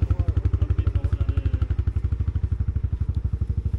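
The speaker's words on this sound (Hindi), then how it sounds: "तो गाइस, ये बाइक कर दी मैंने कोल्ड स्टार्ट।" A motorcycle engine idles steadily just after a cold start in chilly mountain air near Kufri, Shimla, its low, even firing pulses close and loud, with a slight mechanical clatter and no talk over it.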